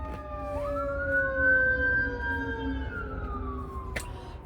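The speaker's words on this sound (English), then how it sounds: "there's sirens somewhere. I don't know if you can hear that." A fire truck siren wails steadily from a distance, its tone rising and holding over faint traffic rumble, with a sharp click near the end.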